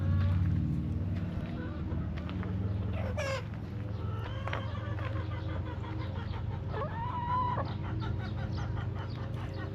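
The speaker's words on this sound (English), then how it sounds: "here's a little sneaky chicken that got out of his pen." A loose chicken on a Lancaster County mini horse farm clucks in short bursts, with a rooster-like call and other farm fowl nearby over a low steady background hum.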